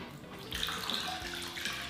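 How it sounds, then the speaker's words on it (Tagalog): Water poured from a container into a large mixing bowl to make a salt brine, a steady splashing pour rising in the middle and continuing to the end, close by with no talk. "Pagsasamahin ko lang yung tubig at asin sa isang malaki-laking mixing bowl."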